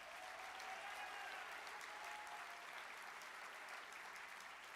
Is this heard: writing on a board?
no